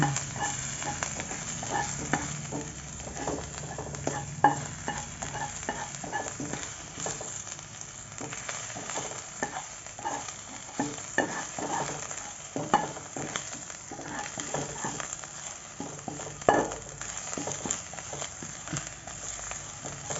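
Garlic and bird's eye chilies are stir-fried in a pan for a vegetarian dish, with a continuous sizzle under rhythmic scraping and clacking of a spatula against the pan.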